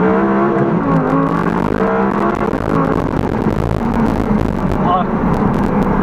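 Audi R8 V10 RWS engine revving hard past 5,000 RPM toward 9,000, a loud rising howl that holds and climbs, heard from inside the car with a voice talking over it.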